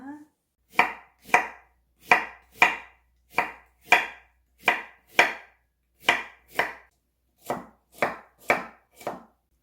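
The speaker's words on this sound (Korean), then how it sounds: "달지 않고 무 두 개 남겨놓은 거 썰겠습니다." A knife slices firm radish for kimchi on a cutting board, sixteen sharp, evenly spaced chopping strokes falling in quick pairs, close and loud with no talk.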